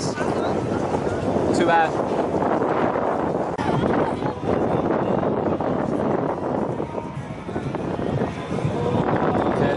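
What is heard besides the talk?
strong wind blowing outdoors in Venice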